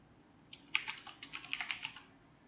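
Rapid bursts of computer keyboard typing at a desk, a short flurry of close, crisp key clicks with no talking.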